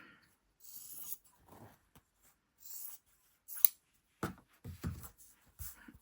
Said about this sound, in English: I might just trim this fabric down a little bit.